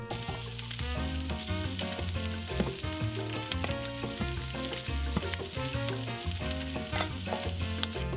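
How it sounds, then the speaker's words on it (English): Onions, garlic and courgettes sizzling in local olive oil in a big wok on high heat, a continuous crackling fry that runs beneath prominent background music. "I've got my big wok on high heat and cooking my onions with local olive oil for a couple of minutes, then adding the garlic and the courgettes"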